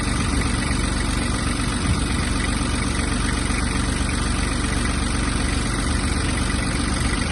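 A Kubota A-17 Japanese mini tractor's diesel engine idles steadily up close, a constant low rumbling chug that holds even the whole time with no revving.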